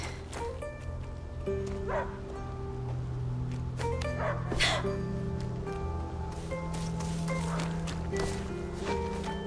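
A dog barks and whimpers in A Plague Tale: Innocence, short yips and bow-wows repeating through the whole stretch over game music and ambience, moderately near.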